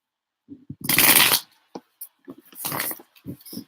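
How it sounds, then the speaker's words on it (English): A deck of cards is riffled and bridged twice in quick, crisp bursts, close to the mic, with a few lighter taps and card snaps in between and no voices. "Every day I'm shuffling."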